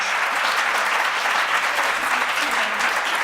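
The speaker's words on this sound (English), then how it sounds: "a round of applause, please, for our great panellists." A conference audience at a panel discussion on EU overfishing claps for the panellists, producing a steady, dense wash of applause with no pauses.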